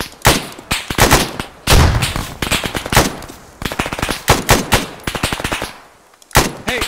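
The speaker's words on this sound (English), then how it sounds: "Hey, hold that MG fire! Hold the fire!" Sustained machine gun fire in a military video game, loud, close bursts repeating in rapid volleys with short gaps, no talking over it.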